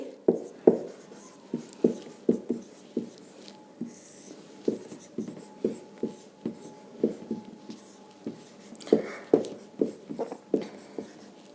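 Notes being written by hand during a chemistry lesson on plaster of Paris, a long run of close, rhythmic scratching strokes and taps with short pauses, and no talking.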